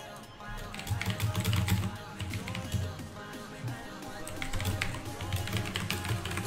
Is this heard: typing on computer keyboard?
yes